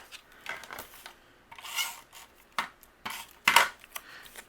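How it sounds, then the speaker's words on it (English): Pattern paper is trimmed into a thin half-inch strip for a card, giving soft, intermittent scraping and rubbing sounds, close by and quiet, with no voices. "we're just going to trim down a thin strip"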